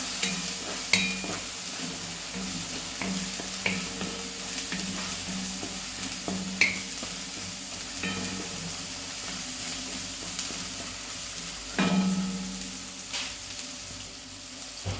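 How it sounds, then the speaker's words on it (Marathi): Whole masoor lentils frying with turmeric, asafoetida and coriander powder, a soft continuous sizzle with periodic spoon scrapes and taps as the mixture is stirred up close. "थोडीशी हळद थोडंसं हिंग थोडंसं धना पावडर मिक्स करून घेऊया"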